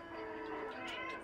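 A pet cat meows once in a drawn-out, wavering call, fairly close but quiet, with faint game sound underneath.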